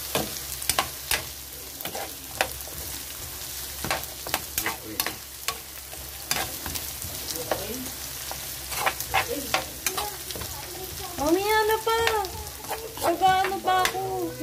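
Carrots and a little onion crisp up in a home frying pan, with a steady sizzle and repeated sharp stirring scrapes, and a faint voice-like sound near the end.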